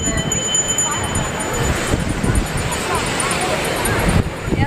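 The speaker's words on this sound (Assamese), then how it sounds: "আৰু বহুত বতাহ" Steady, loud wind buffets the microphone in a continuous roar on a crowded beach at Mahabalipuram near Chennai, with voices and crowd noise faintly beneath it.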